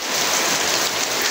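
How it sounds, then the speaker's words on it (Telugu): Heavy rain pours down outdoors in Dubai, a dense, continuous hiss of drops striking surfaces, loud and unbroken throughout with no voices. "చూడండి ఇది ఎంత వర్షం వచ్చేస్తుంది"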